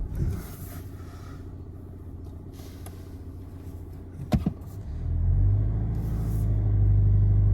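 300HP Audi A5 Avant accelerating hard from a launch, a low engine rumble that swells into a loud, deep, sustained roar after a brief sharp knock.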